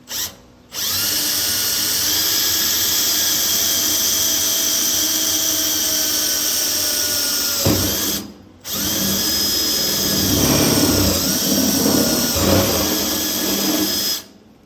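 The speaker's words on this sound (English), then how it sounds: "For some reason, a step drill bit seems to work the best." A power drill whines steadily and loudly, stops briefly, then resumes with rougher grinding as a step drill bit cuts through the metal liner of a Weber Searwood pellet grill.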